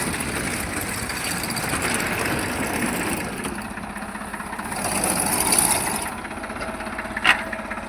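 A tractor idles steadily with a 9-foot millet harvesting machine attached in a summer millet field, its engine drone constant and fairly loud, with a brief sharp knock near the end.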